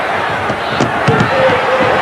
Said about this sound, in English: It sounds like a football crowd to me.